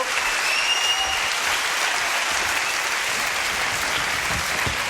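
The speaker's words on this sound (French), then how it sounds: "Applaudissements pour lui" Studio audience applause on a French TV show, a dense, steady wash of clapping that runs loud and unbroken from start to finish with no talk over it.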